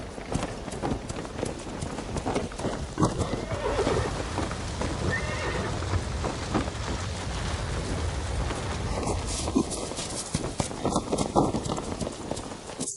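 Horses gallop forward in a dramatic charge, drumming hooves pounding continuously while several loud neighs and whinnies cut through the rumble.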